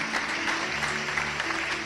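Church congregation applauding for the Lord during a sermon, a steady wash of clapping from a crowded hall with a sustained musical tone underneath.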